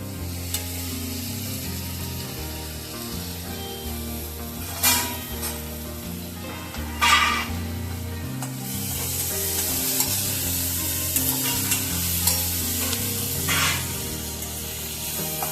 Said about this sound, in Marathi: आता ह्या भाज्यांना थोडं मऊ होईपर्यंत परतवायचं